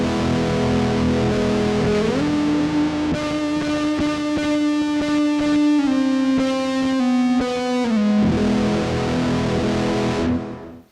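Guitar through a Zoom G1on multi-effects unit with distortion, carbon delay and plate reverb, sustained bent lead notes singing over a droning chord, loud and alone, trailing off into a reverb tail at the end.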